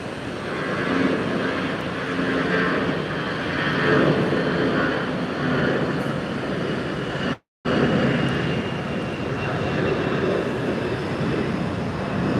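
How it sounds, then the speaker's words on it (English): A Q400 turboprop airliner takes off at MSP airport, a steady, loud engine roar that fills the whole stretch with one brief dropout partway through. "There's no way we're gonna miss the Q400 takeoff."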